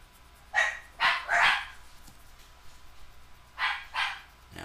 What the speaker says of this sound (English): I can hear the dogs next door barking.